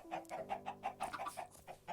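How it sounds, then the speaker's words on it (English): Chickens on a video game farm cluck in a quick, steady series of short, close calls with a faint background tone underneath. "Those are new chickens."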